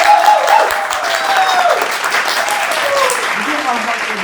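Studio audience applause on a talk show, a loud, even burst of clapping from a small crowd that holds steady for a few seconds with faint voices underneath.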